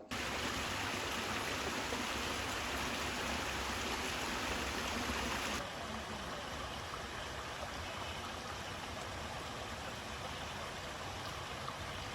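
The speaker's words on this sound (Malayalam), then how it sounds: "തൂതപ്പുഴ നിറഞ്ഞ് കാറൽമണ്ണ കാളിക്കടവിൽ പമ്പ് ഹൗസിനൊപ്പം വെള്ളമെത്തി" The flooded Thootha river surges at Kaliykkadavu near a pump house, a dense, continuous roar of rushing water filling the scene without pause.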